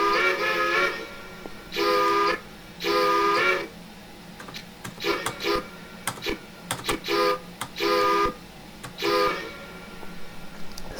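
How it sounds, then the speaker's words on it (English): A Machine Rail 1907 EFCB 0-6-6-0 locomotive whistle in Train Simulator Classic gives about seven loud, steady tonal blasts, a few long and several shorter, separated by pauses with faint clanking and rumble beneath. "The whistle sounds great."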